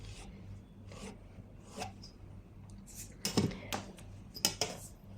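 Faint, short scratchy strokes of a marker or chalk dragged across churidar fabric, several quiet rasps in an uneven rhythm, with a few light taps and rubs near the end.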